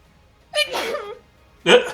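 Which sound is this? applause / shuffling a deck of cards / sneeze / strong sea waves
sneeze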